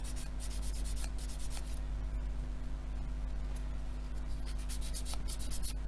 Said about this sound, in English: Remove the sprue nibs from there.